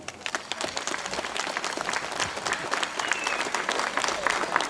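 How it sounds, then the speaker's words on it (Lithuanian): An audience applauds the president at a public holiday celebration in Palanga, with steady, dense clapping throughout at a constant level and no speech over it. "Padariniai plojimai gerbiamam prezidentui"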